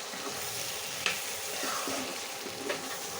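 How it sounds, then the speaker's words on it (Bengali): Spicy eggplant curry sizzles softly in a pan while a utensil gently stirs it, with a couple of light scrapes and taps over a quiet, steady frying hiss and no voices. "নেড়ে দিতে হবে"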